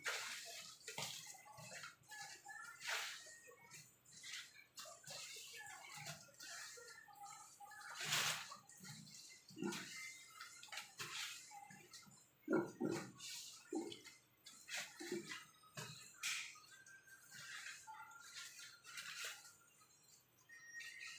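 Water being poured and sloshed for soaking bamboo leaves used to wrap suman, with splashes, drips and clinks coming in irregular bursts at close range, fairly quiet throughout.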